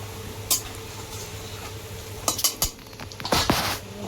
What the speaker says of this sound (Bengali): এবার আমি তেলের পরে দেবো শুকনো ঝাল আর জিরে, আর দেবো তেজপাতা।